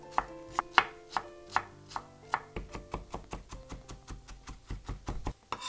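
A knife cuts a carrot into thin julienne strips on a cutting board, first slow separate chops, then a quicker steady run of crisp taps close by, with no talking.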